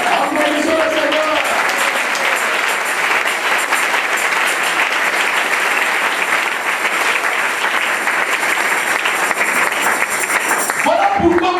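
A church congregation breaks into loud sustained applause during a sermon, a thick continuous roar of clapping that holds for over ten seconds, with a voice rising briefly at the end.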